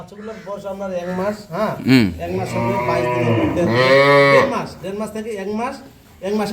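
Native dairy cows and young calves on a village farm in Dinajpur, a close, loud drawn-out moo and a shorter lowing call, with people talking around them.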